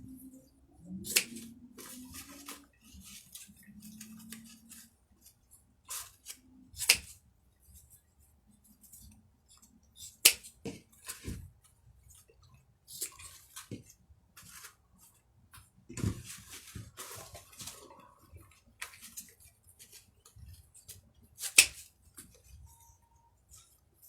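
Scissors trim deco mesh tails on a wreath in scattered, sharp snips and clicks spread across a long quiet stretch, with faint rustling of the mesh between cuts.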